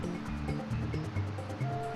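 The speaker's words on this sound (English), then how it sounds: "what happens when Mario goes through the waterfall" Waterfall in the Super Mario 64 video game, a steady rushing water wash under a looping game music pattern of repeating low notes, fairly loud and continuous.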